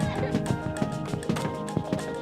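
Horse hooves clip-clop at a steady walking rhythm on a guided horse tour, close and fairly loud over a dense background of music or ambient sound.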